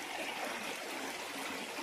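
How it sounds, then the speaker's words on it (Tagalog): A river stream flows steadily alongside a walking path, a continuous broadband wash of running water with no pauses, close and even throughout. "Sa gilid ng ilog."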